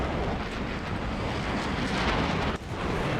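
An enemy plane is destroyed in a MiG-23 MLA combat flight game, heard as a broad, rumbling explosive roar that fills the whole moment, loud and sustained with a brief dip near the end.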